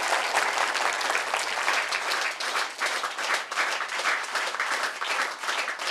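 Loud, sustained applause from a large audience at a televised community quiz-style show, dense clapping continuing steadily throughout without a break.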